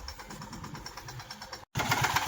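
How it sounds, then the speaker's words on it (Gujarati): A steady, rhythmic tractor engine chugs nearby at full power in muddy ground, with a brief dropout before it resumes louder. "આ ટ્રેક્ટર એટલે ફૂલ તાકાતમાં આવે છે"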